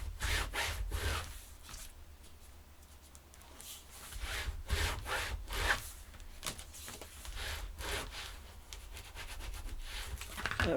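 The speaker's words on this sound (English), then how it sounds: "I'm going to take my bone folder one more time and burnish." A bone folder rubs firmly over paper mini album pages, making a steady run of scraping, rasping strokes that sound close and moderately loud, with no talking.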